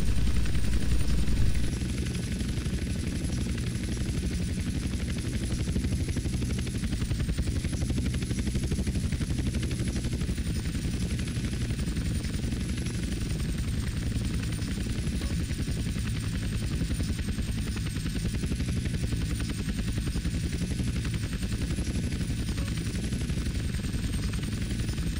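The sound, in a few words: helicopter landing in video game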